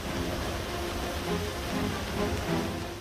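Heavy monsoon rain pouring steadily during flooding across Uttar Pradesh and Madhya Pradesh, a dense continuous hiss with low rumbling beneath, even and unbroken throughout with no voices.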